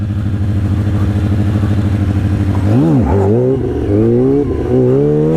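A motorcycle engine idles steadily, then revs hard with rising and falling pitch sweeps as it pulls up into a double back wheelie stunt, loud and close throughout.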